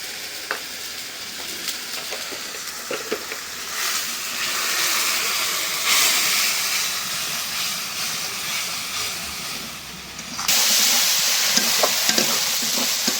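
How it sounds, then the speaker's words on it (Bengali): Turmeric, chili and coriander powder spices sizzle and hiss in hot oil while being stirred, a steady close frying noise with scraping strokes, growing louder near the end. "মশলাটা একদম ভাজা ভাজা করে নিলাম।"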